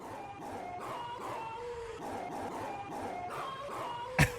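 A dog sound effect from the Roblox game Tiny Universe plays as a run of drawn-out, howl-like barks and yips over a busy game background, ending with a sharp click.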